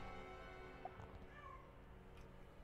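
A cat meows faintly somewhere in a quiet room, a single soft call over a low background hum.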